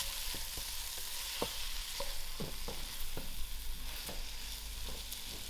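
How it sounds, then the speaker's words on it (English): Masala cooks gently over low heat for a vegetable korma, a quiet steady sizzle broken by repeated soft spoon taps and scrapes against the pan, with no voices. "on my low heat, I'll allow the masala to cook"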